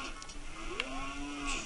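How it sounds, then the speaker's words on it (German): Cattle mooing at Lon Lon Ranch in Zelda: Ocarina of Time Master Quest, one long gliding low moo, moderately quiet, with a couple of faint high chimes around it. "Ah, Kühe. Mu."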